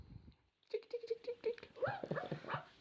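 A small dog gives a quick run of high, thin yaps up close, followed by a person's voice talking.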